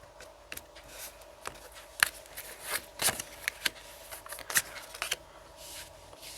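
Tarot-style cards being shuffled for a card reading, a run of quick riffling bursts and soft slaps at irregular intervals, close and moderately loud, with a faint hum underneath and no talking.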